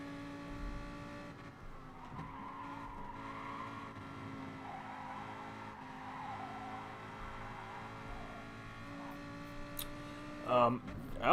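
Supra, Ferrari and Lamborghini Gr4 race cars in a racing video game hold a steady, tonal engine drone, with sharp tire squeals bursting out near the end.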